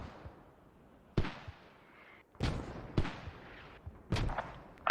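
Mortar fire in a video game: several loud, booming impacts and blasts with short decaying tails, spaced irregularly over a few seconds, with no voices.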